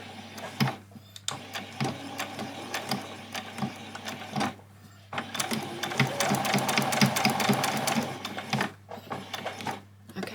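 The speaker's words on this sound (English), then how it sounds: "I'm going to do a back stitch." A sewing machine runs a back stitch on a child's dress in short bursts of rapid, close mechanical stitching separated by brief pauses, with no voices.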